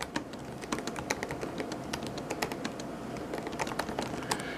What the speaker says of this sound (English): I'm going to type in kind of the quiet,